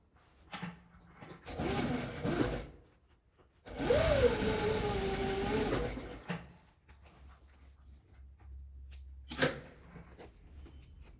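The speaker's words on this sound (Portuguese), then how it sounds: "E vou passar a costura aqui com o forro junto." A sewing machine stitches the lining of a zipper pouch together in separate bursts, each a steady mechanical whir lasting one to two seconds, close by, with quiet pauses between runs.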